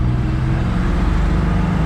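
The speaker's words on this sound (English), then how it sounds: "Got the truck out on the road. It's actually driving extremely well." A 1997 Chevy C10 squarebody step-side long-bed pickup drives along at a steady pace, its engine a loud, constant low rumble with road noise heard from inside the cab.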